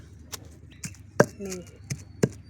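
Chilies, cumin and tamarind pounded in a stone mortar: four or five separate heavy thuds at irregular intervals, close and fairly loud, with a brief voice murmuring between strikes.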